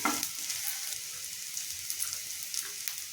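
Ridge gourd for a curry sautés in a hot pan with a continuous bright sizzle, broken by occasional soft clicks and scrapes of stirring, and no one talks.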